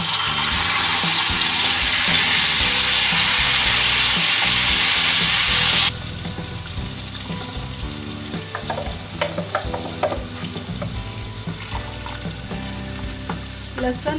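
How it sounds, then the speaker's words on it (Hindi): Ground garlic, onion, tomato and ginger paste fries in oil, a loud hissing sizzle that drops abruptly as the paste is stirred, followed by quieter bubbling and scraping taps. "लहसुन, प्याज, टमाटर और अदरक जो मैंने ग्राइंड किए थे, इन सबको मैंने भूनना है।"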